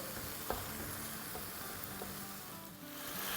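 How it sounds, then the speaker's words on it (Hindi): Chicken with thinly sliced green chillies fries in oil in a pan with a quiet, steady sizzle, broken by a few faint stirring clicks and a sharper knock at the end. "और अब इसकी हम भुनाई करेंगे, 1 मिनट के आसपास भुनाई करेंगे।"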